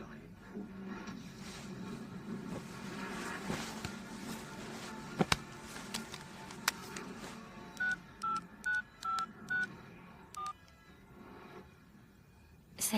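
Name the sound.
telephone dialing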